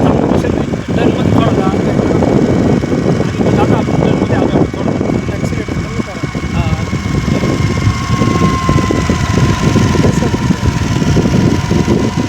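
A scooter engine runs loud and steady at close range for the whole stretch, its continuous drone overlaid by a person talking.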